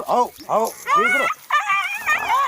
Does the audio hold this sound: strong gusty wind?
no